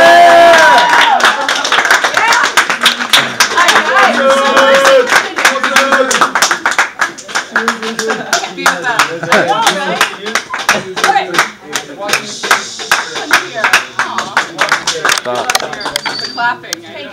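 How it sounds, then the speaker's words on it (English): An audience claps for a guest speaker in a classroom-style setting, a dense run of hand claps that stays loud for most of the stretch, with voices talking and calling out over it. "Clapping."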